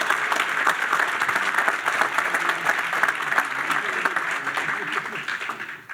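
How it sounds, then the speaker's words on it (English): Sustained, dense applause from a large audience honouring an award recipient at a Kiwanis awards program, steady and loud throughout with some crowd murmur, tapering slightly at the very end. "Give him another round of applause, please."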